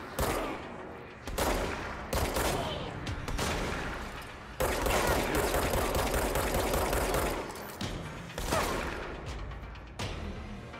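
Shotgun fire in the video game Control: repeated loud, sharp bursts of gunfire that come in clusters and carry on for about ten seconds, with short gaps between the volleys.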